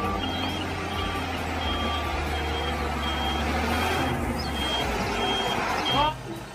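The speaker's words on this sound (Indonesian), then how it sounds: "yang ini truk molen untuk mengaduk semen" A cement mixer truck gives steady reversing beeps over loud diesel engine rumble and road noise, heard close.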